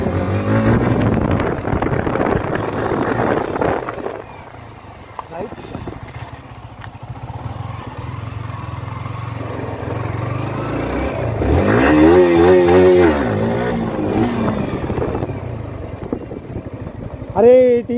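A motorcycle engine, already warmed up for beginner wheelie practice, idles and revs outdoors. There is wind rumble on the microphone, a rising rev swell in the middle and a sharper blip at the end. Someone talks over it.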